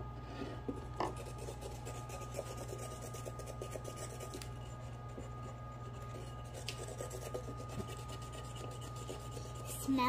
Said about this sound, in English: You can just scribble wherever you want to, all over it, because we're gonna wipe off all that excess.